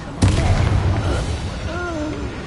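A Bombarda exploding spell from a Harry Potter video game bursts in with a sudden loud blast, then rumbles and crackles for a couple of seconds as lighter tonal effects drift over the fading debris.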